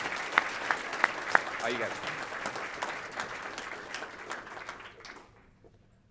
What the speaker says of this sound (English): Give one last round of applause for all of our winners.